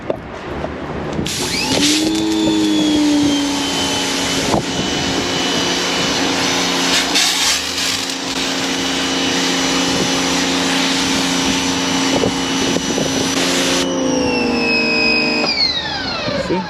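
A Giraffe Tools power washer runs with a loud, steady motor whine and hum that starts up, holds for about twelve seconds, then shifts pitch and winds down, with no voices over it.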